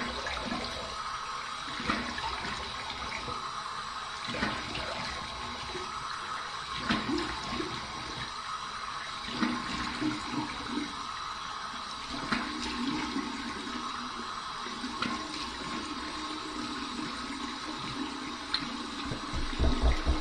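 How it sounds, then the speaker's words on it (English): Warm water running steadily from a tap for a rinse, a continuous rushing flow that stays even and fairly loud throughout with no voices. "Here's my warm water rinse."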